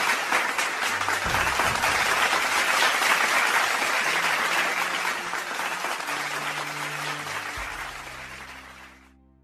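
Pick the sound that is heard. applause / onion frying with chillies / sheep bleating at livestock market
applause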